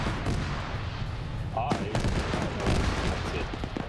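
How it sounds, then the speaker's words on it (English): An auto cannon firing in a video game, a continuous barrage of loud booming shots rolling on for several seconds, with a brief electronic blip partway through. "I cannot hear you over that auto cannon going off."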